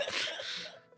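A single short, breathy sneeze, close and fairly soft, trailing off quickly.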